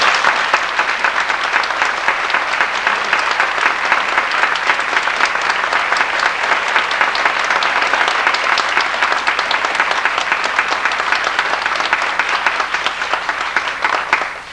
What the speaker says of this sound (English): give him a rousing applause for all of his work with you over these past years